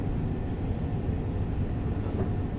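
A Class 387 Gatwick Express train in Train Sim World 3 gives off a steady, dense rumble of rolling wheels and traction noise, continuous and fairly loud throughout.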